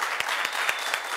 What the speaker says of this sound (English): Give a hand clap to the Lord.